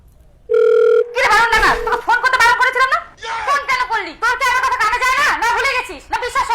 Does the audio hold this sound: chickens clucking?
no